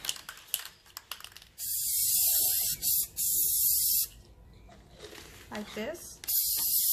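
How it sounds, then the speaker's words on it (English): Golden spray paint sprayed onto a homemade cake serving tray in several hissing bursts, some long and some short, close up, with a person speaking briefly between them. "Now I will spray the paint."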